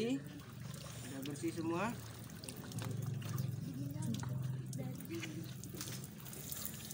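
Water is poured and splashed over a body during a ritual washing demonstration, trickling and sloshing at close range beneath a man's continuous explanation.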